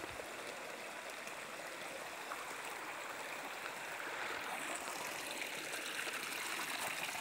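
A babbling forest stream near Upper Chaitipan village, Kurseong: steady close rushing and gurgling water fills the whole stretch, fairly loud and constant, with no talk.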